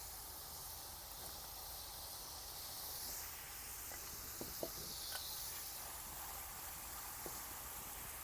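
Tomatoes and green chillies frying with keema in a hot pan give a steady, soft hiss of sizzling steam, with a few faint clinks near the middle and no voices.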